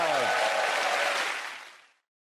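Studio audience applause on a comedy panel show, a loud burst of clapping that fades away quickly after about two seconds, with a brief voice at the start.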